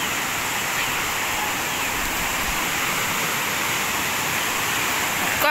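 A river rushes past the bank as a steady, broad hiss of flowing water, continuous and fairly loud with no breaks, and no voices are heard.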